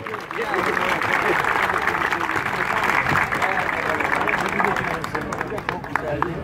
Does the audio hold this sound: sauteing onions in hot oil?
no